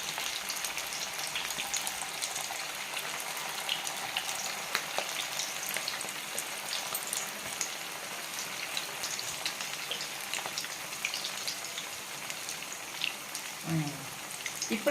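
Veg manchurian balls frying slowly in oil, a continuous close hiss with fine crackling that sounds almost like rain, and a brief clatter near the end.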